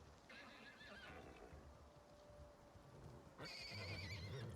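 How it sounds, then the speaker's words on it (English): Two faint, far-off horse whinnies in the survival video game Icarus, each a wavering high call, heard over a steady low ambient hum with no talk. "We got a couple horses here"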